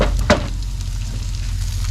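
Onions frying in a pan, giving a steady close sizzle with a brief louder crackle near the start and no talking.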